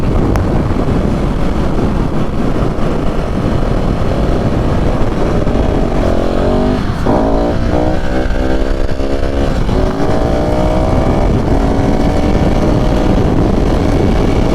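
A KTM 690 SMCR motorcycle engine drones loudly while riding, with heavy wind rush over the microphone and rising and falling rev sweeps in the middle as the rider works through the gears.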